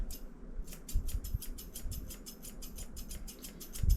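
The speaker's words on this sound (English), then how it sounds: "My scissors." Scissors trim a small, nervous dog's fur at a grooming session, a fast, regular run of crisp snips close by, with faint low bumps and handling noise underneath.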